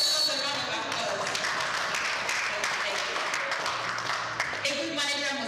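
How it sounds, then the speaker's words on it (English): Sustained round of applause from a conference audience for the men, a broad, even patter of many hands clapping throughout with some voices underneath. "Give all of themselves a round of applause."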